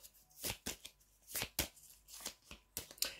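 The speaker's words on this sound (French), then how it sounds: "Pour voir qu'est-ce que vous allez décider de faire, vous, sur les 5 cartes," Tarot cards being shuffled by hand, a series of quick riffling bursts and soft slaps in irregular rhythm, close and clear with no talking.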